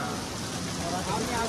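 Heavy rain falls in Manwath, a dense, steady hiss of downpour that fills the whole moment without a break.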